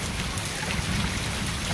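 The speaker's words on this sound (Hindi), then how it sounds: "देखो बारिश बढ़ती जा रही है, देख लो आप भी" Heavy rain pours down nearby, a dense, loud, continuous hiss of drops drumming on surfaces without a break.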